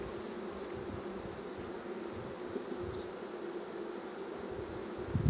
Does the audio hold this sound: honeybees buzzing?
yes